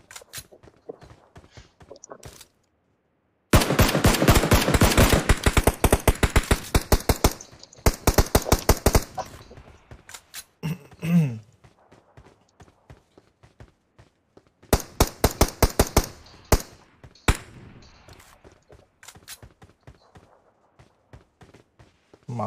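Video game machine gun fire rattles out in long, loud, rapid bursts, with quieter single shots and clatter between volleys and short silent gaps.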